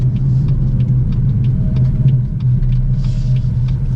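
A BMW M4 F82 cruises with its gearbox in the softest setting, giving a steady, loud, low engine drone and road rumble from inside the cabin.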